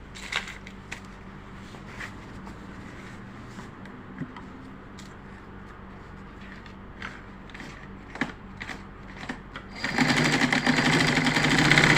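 A Butterfly sewing machine being serviced runs in short bursts of rhythmic ticking and whirring, then breaks into a louder, continuous high-speed stitching clatter at the end.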